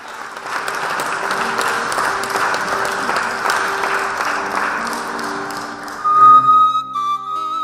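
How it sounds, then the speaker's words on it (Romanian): Audience at a book launch applauding an academician professor, sustained dense clapping that fades toward the end as a sustained tone and a brief whistle-like sound come in. "Aplauze pentru domnul profesor"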